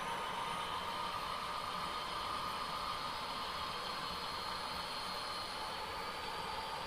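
An HO scale model local manifest train rolls past on a layout representing the Union Pacific Evanston yard, a continuous even rumbling whir with a faint high whine, steady throughout.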